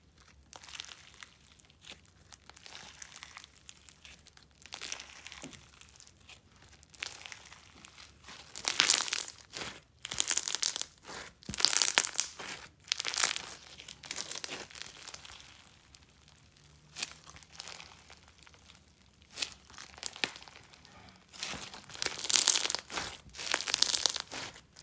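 Crunchy foam bead slime with colorful sprinkles is squished and kneaded by hand, giving close, repeated crackling crunches and crinkly pops in uneven bursts, with no talking.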